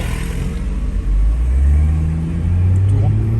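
A car engine rises from a low rumble into a stronger, climbing drone as the car pulls away and accelerates, with people talking inside the car over it.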